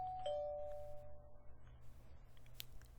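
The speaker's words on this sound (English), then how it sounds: "I reached out and pressed the doorbell." A two-tone electronic doorbell chime in a video game, Collar X Malice, rings once, clear and close, then fades into a quiet room with a low hum.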